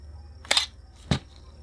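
A camera shutter release fires as two sharp, close mechanical clicks about half a second apart, with a quiet low hum in between and no talking.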